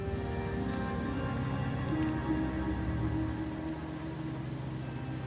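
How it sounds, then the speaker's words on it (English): Steady rain falls in the video game Wuthering Waves, a dense continuous patter holding level throughout with faint low ambient tones beneath. "The rains in Septimont never seem eager to leave this season."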